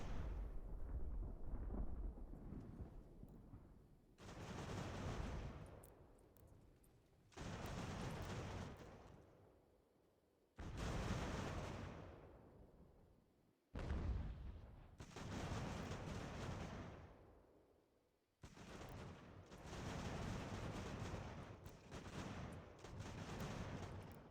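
Cannon artillery booms in an American Revolution strategy game, several heavy blasts spaced a few seconds apart, each with a sharp onset and a long rumbling decay, loud and with no talk over them.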